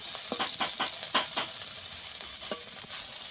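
Eggplant pieces with neem leaves frying in a pan, a steady hiss of hot oil broken by repeated close stirring scrapes in an irregular rhythm.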